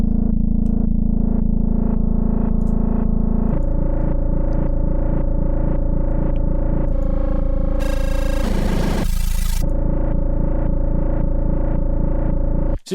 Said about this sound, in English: very quickly we're getting kind of a scary bass sound